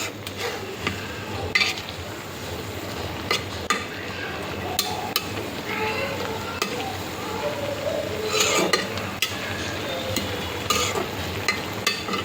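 Dried fish, onion and garlic frying in hot oil in a pan, a steady loud sizzle with repeated sharp clinks of a spoon stirring against the pot, no talk.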